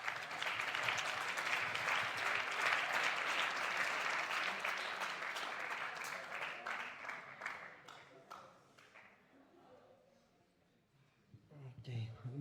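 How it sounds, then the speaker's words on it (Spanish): An audience applauds to welcome a speaker at a training-institution event, dense clapping that thins into scattered claps and fades out, followed by a voice beginning to talk. "Vamos a recibir con un fuerte aplauso a Julián."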